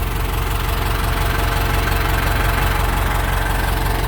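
A Ford 6610 tractor engine runs at a steady idle, loud, close and continuous, with a dense low rumble and a faint knocking beat and no talking.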